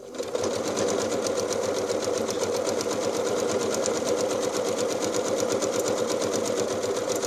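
A sewing machine runs steadily while stitching around the edge of a quilted pot holder, a continuous close, even mechanical whir with fast rhythmic needle chatter, with no speech.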